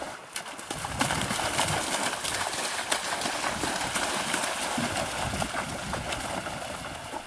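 Horses walk through shallow marsh water in the Iberá wetlands, pulling canoes. Their hooves give a steady, close run of splashing clip-clop steps that goes on throughout, with no talk.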